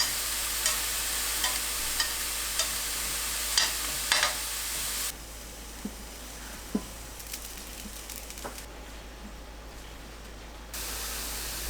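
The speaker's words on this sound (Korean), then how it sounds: "새송이 버섯도 중불로 노릇하게 굽습니다." King oyster mushrooms and eggplant sear in a dry pan with no oil over medium heat, giving a steady close hiss and crackle, broken by occasional light taps and scrapes, with a quieter stretch midway.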